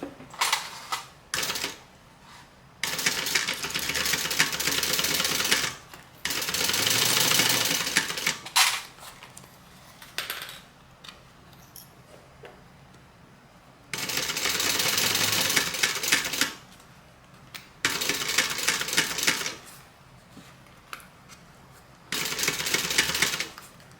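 A sewing machine stitches a seam with a 1/4 inch seam allowance, running in loud sustained bursts of rapid mechanical whirring separated by short pauses.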